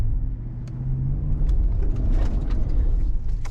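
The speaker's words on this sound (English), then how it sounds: "I'm just gonna go full throttle right now" A 2021 Cadillac Escalade at full throttle on an off-road hard line gives a loud, steady engine rumble that builds slightly and holds, with faint crunching clicks on top.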